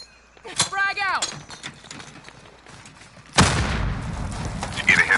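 Frag grenade blast in a tournament first-person shooter, a sudden loud burst after a stretch of quieter game sounds and brief tones, with noisy crackling aftermath.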